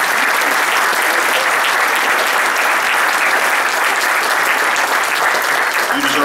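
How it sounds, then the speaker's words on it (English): Sustained audience applause from a crowd at the Greensboro Fire Department awards program, dense and steady clapping that stays loud and even for the whole stretch, with no break in the noise. "Let's give our family members a round of applause."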